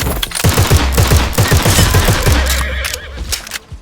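Cavalry horses whinny amid rapid machine-gun bursts in the video game Glory Front Line, with loud rattling gunfire dominating before fading into scattered shots.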